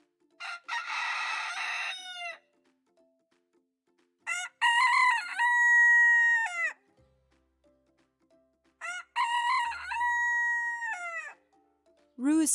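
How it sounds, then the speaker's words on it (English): A rooster crows three times, each a loud, close, drawn-out cock-a-doodle-doo lasting about two seconds, separated by quiet pauses, with the start of a fourth crow at the very end. "Rooster."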